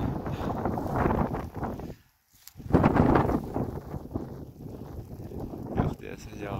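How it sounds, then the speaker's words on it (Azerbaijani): Wind gusts outdoors in rainy weather in rocky mountain country, buffeting the microphone in rough, loud bursts. A short lull breaks the gusts before they pick up again. "Yox deyəsən, yağışda, küləkdə kəsmək istəmir."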